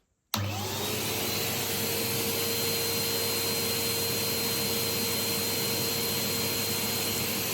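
A brand-new 2025 Numatic PSP180 vacuum cleaner with a fresh bag switches on abruptly and runs at a steady, even whine and rush for several seconds, close by.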